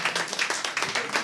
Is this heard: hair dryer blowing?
no